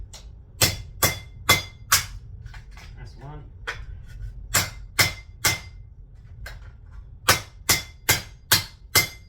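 Sharp hammer blows crack against landline telephone transformers in quick bursts of three or four strikes, close and loud, with brief talking in between.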